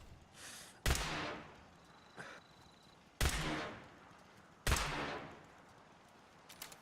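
A new weapon firing in Fallout 4, three heavy, booming single shots spaced a couple of seconds apart, each with a long ringing decay, plus a fainter blast at the start.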